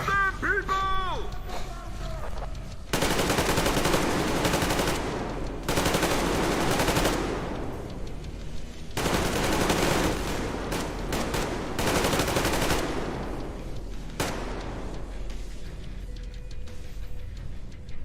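Sustained automatic gunfire from allied fighters in the shooter game Metro Exodus, with dense bursts of machine-gun rattle that stop and restart several times, loud and close, with game sounds around it.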